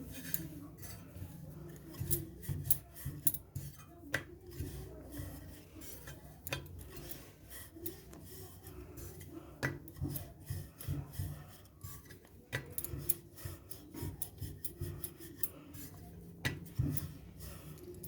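Dough for fish kachori is rolled out thick with a rolling pin, making repeated scraping, rubbing strokes against the board in an uneven rhythm, close and fairly quiet.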